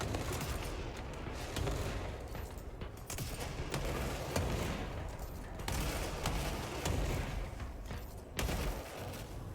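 Sustained gunfire from the action game Control, a dense stream of shots and bursts layered with booming impacts throughout, fairly loud with no speech.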